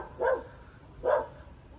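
Two barks from a dog, about a second apart, fairly close and moderately loud over a quiet outdoor background, with no talk.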